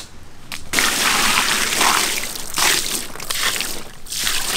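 Water sloshes and splashes in bursts as a giant stone fish is washed by hand, loud and close, with short pauses between the swishes.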